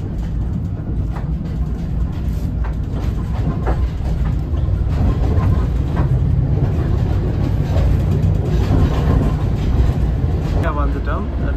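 An observation deck train on the Kandy to Badulla line runs steadily on its rails with a continuous low rumble and faint rhythmic clatter, while people talk throughout.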